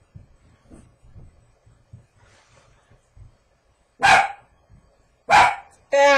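A dog barks three times, loud and close, with two single barks and then a sharper one after a quiet stretch of faint room noise.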